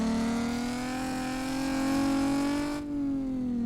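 Nissan Z with a VQ engine in a video game, a sustained steady engine drone rising slightly in pitch as it revs, loud and close, with a brief dip near the end.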